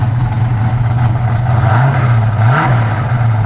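A 1968 Ford Mustang V8 with aluminum heads revs close by, its loud steady idle rumble rising in two quick throttle blips before settling back.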